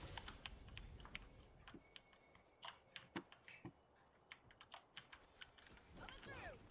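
A streamer's computer keyboard and mouse picked up by a microphone sitting on the desk: irregular clicky keystrokes and taps over several seconds, close and dry, with a faint mouse swipe near the end.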